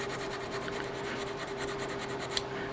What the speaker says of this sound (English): I'm just trying to get rid of all my little filing marks